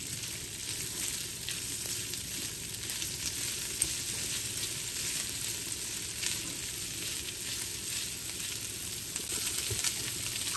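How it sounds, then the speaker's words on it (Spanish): Sausages and bacon frying together in a pan, a faint, even crackle and sizzle running throughout with no talking. "se están cocinando un poco las salchichas junto con el tocino"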